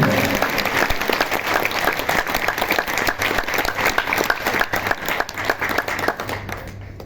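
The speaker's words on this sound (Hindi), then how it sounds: "अब जाओ ताली जोर से, बहुत जोर से।" Loud, sustained clapping from a congregation at a spiritual discourse in a Delhi ashram on Gita Jayanti, dense and continuous, with individual hand claps standing out before it fades slightly at the end.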